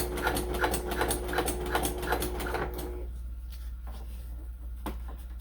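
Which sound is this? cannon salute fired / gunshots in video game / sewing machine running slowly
sewing machine running slowly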